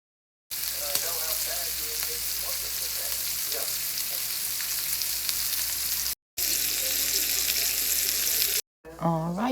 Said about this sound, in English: I'm going to grill it in my bacon grease and a little bit of butter.